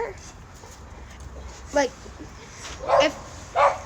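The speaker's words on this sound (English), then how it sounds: "sorry, my dog's barking." A dog barks three times in short, sharp bursts somewhere in a room, with a person talking steadily over and between the barks.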